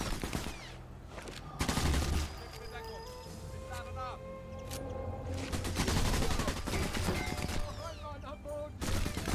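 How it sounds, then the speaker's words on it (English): Gunfire in the shooter Sniper Elite 4: bursts of rapid shots and single cracks, some loud and close, others fainter, scattered through the stretch under a player's frequent talk. "He's shooting me."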